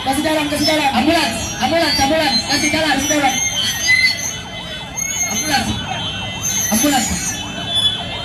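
An ambulance siren wails in rising and falling sweeps, loud and close, at a student road blockade, with people talking and shouting over it.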